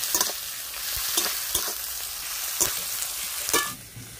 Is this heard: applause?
no